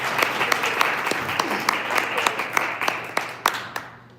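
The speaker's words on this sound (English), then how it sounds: "So let's, round of applause." An audience applauds to welcome a presenter to the stage at a live pitch event, a steady burst of clapping with sharp individual claps standing out, tapering off at the end.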